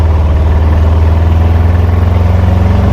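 At full throttle, a VW Safari concept buggy engine drones as a loud, steady, low-pitched roar with a fast pulsing exhaust beat, sustained and close for three seconds, with no voices.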